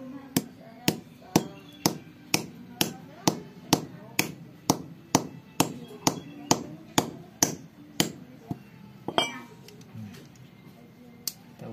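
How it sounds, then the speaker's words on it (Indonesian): A hammer taps on a candlenut shell again and again to crack it, giving sharp, evenly spaced knocks about every half second. The blows are close and clear, then turn a little irregular near the end. "kita tinggal ketok pakai palu ya"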